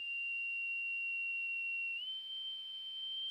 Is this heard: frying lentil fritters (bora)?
no